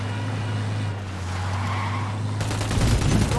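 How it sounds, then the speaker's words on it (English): Gunfire in the Ghost Recon video game crackles as rapid bursts over a low steady engine-like drone, growing louder toward the end. "Opening fire."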